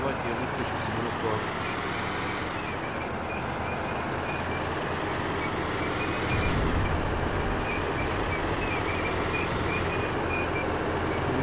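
An Abrams tank drives in the video game Operation Flashpoint, a steady loud engine drone with a rising and falling whine and a heavier surge partway through, and voices talking over it.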